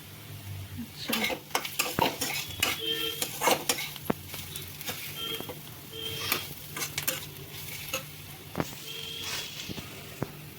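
Vegetable masala powder stirred into poha in a pan, with repeated metal scrapes and clinks of a spoon against the pan over a light sizzle, close and busy with no talk.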